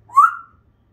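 A wet pet bird, just out of a shower, gives a single short rising whistle, close and clear against near silence.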